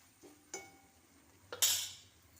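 A utensil stirs a spice mixture with fenugreek powder in a metal pan, giving a few scattered scraping clinks and one louder metallic scrape near the end, close and fairly quiet.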